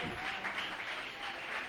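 A church congregation applauding, a steady, sustained wash of many hands clapping together at moderate loudness, with no pauses.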